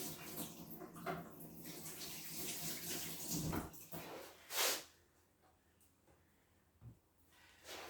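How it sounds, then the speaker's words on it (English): Water runs from a tap as hands are washed beneath it, a soft continuous splash with a few louder bursts of water, then quieter drips and handling noises. "first thing I'm going to do is go to wash my hands here"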